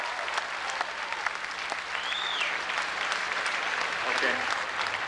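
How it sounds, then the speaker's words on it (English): A speedway crowd at a 1988 Highland Speedway race gives a sustained round of applause for modified-division driver Rick Kloos after his flip, heard as broad, somewhat distant clapping with a brief whistle-like tone rising over it. "please, nice round of applause for Rick Kloos here"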